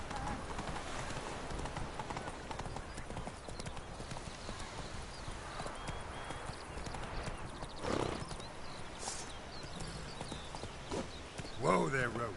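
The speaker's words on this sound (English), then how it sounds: "Whoa there, Roach." Horse hooves clip-clop steadily in the video game Witcher 3, with a brief whinny near the end, all set against ambient game sound while a voice talks over it.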